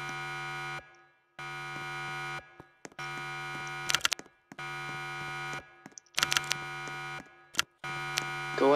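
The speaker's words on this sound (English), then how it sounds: "The hell is that alarm?" An alarm sounds in a Roblox game, a loud, steady buzzing tone in repeated long bursts separated by short gaps, with brief clicks and noises in between.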